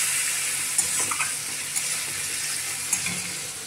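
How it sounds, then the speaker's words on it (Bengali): A little water goes into a sizzling Bengali egg curry in the pan, giving a steady hiss and bubbling with a few small pops, close and fairly loud, without speech. "অল্প একটু জল দেবো, দিলে হয়ে যাবে ডিমের কারি আমার।"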